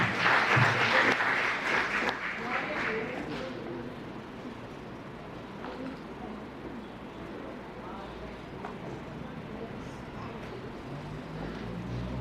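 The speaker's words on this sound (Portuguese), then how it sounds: "Vamos aplaudir a Deus mais uma vez pela vida do seu professor esta manhã" A church congregation at a Sunday Bible-school class bursts into loud applause, which fades after a few seconds into scattered claps and a quieter room murmur with birds cooing faintly outside.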